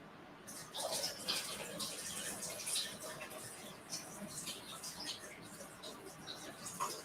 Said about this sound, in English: I rinse it about 3 times typically